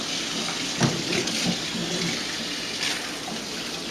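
Tap water runs steadily into a bowl of beans being rinsed, a close continuous splashing stream with a couple of brief clatters as the beans are stirred.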